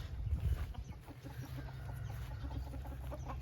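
Chickens clucking on a farm in Isaan, Thailand, with a string of short, fairly faint clucks repeating over a low, steady outdoor rumble.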